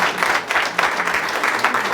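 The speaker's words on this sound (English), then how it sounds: "Well, let's give Anita and Dennis a big round of applause." An audience at an author event claps in a short burst of applause, dense and fairly loud for about two seconds.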